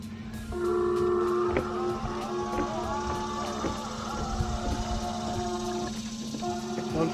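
Camouflaged RC bait boat motor whining steadily at varying throttle, with tonal pitch shifts over a continuous outdoor background near the water.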